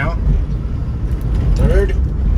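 A BMW E30 325e driving in second gear, heard from inside as a loud, steady low engine drone with road rumble, while someone speaks over it.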